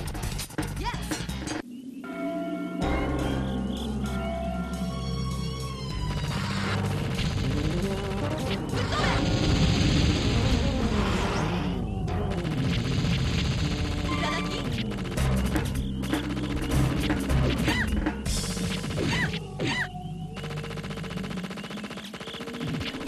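Rapid gunfire and crashing explosions from the Dreamcast arcade shooter Gunspike, a Capcom and Cave collaboration, pound continuously under lively game music.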